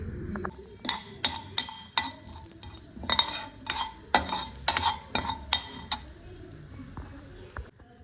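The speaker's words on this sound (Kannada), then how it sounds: "ಇದಕ್ಕೆ ಒಂದು ಒಗ್ಗರಣೆ ಮಾಡೋಣ ಬನ್ನಿ" A tempering for tomato and green chilli chutney sizzles in a pan while a spoon stirs and clinks against the metal in repeated sharp taps, steady frying hiss beneath.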